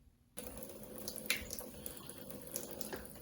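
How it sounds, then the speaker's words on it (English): Warm tap water trickles steadily from a faucet into a sink while an old Bachmann HO model locomotive is being cleaned, starting abruptly and running continuously with small splashes and no talking. "I've just got a little trickle of warm water"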